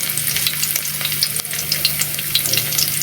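Garlic sizzles steadily in hot oil in a pan as dal cooking begins, a dense close crackle and spatter with faint stirring, no voices.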